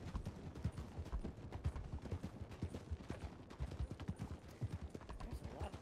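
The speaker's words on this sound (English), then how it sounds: "There's a lot of horses around here." Many horses clip-clopping in a ranch setting in a video game: a busy, continuous patter of hoofbeats, dense and fairly close, with no voices.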